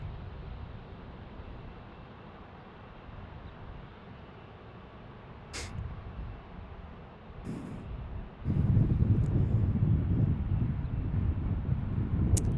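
Airliner at Salt Lake City Airport: a steady, distant jet rumble with wind noise swells into a louder, fuller roar in the last few seconds as it draws closer.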